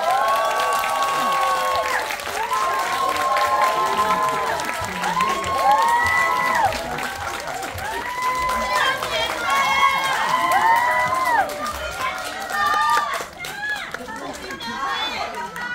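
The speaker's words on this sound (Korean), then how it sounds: "큰 박수와 함성 부탁드립니다." A large theater crowd claps and cheers continuously for a film's opening-day stage greeting, with high excited shouts and whoops rising over the steady applause.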